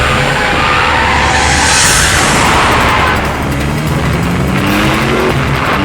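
Fast car in a movie action chase, a dense, loud roaring rush of engine and road noise that holds steady for several seconds with no talk over it.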